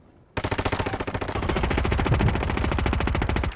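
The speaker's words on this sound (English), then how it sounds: "They're shooting at me" Rapid automatic gunfire from Call of Duty Warzone, Fortune's Keep map, bursting in suddenly after a quiet moment and running as a loud, evenly spaced stream of shots with echo.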